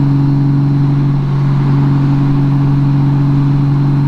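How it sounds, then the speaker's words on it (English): Honda Gold Wing motorcycle, black and silver, cruising on the road, its engine a steady, loud mid-pitched hum with a constant low drone and no talk over it. "just cruising on the Gold Wing, looking at my man Tony's bike"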